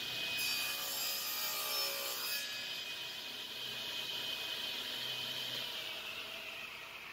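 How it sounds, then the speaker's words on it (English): A saw cross-cuts excess walnut wood for a wine bottle display stand in a steady rasping stroke that continues throughout, with a brief brighter burst near the start. "From that point, I can cross-cut off some excess wood."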